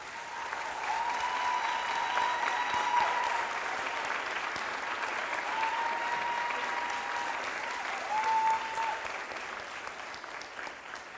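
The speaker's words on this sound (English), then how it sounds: "I think they too deserve a round of applause" Steady applause from an audience honouring the teachers at a girls' high school valedictory ceremony, a broad even wash of many hands lasting over ten seconds, with faint voices and a brief tone beneath it.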